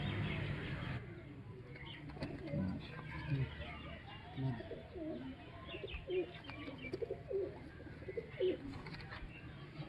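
Pigeons coo softly in repeated low calls with occasional chirps, heard close by beneath a person talking.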